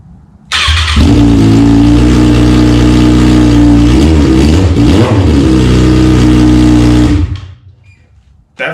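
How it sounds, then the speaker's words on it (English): A Kawasaki ZX6R motorcycle with catalytic converter removed fires up abruptly, running loud and rough with a deep, throaty open exhaust, blipping once midway before cutting off, then a brief restart. "I'm going to start it up just to clean it out one more time"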